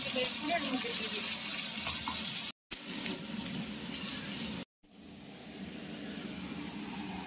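Onion and spice paste sizzling in a pan, a close, steady frying hiss broken by two brief cuts, with some stirring noise. It fades quieter toward the end.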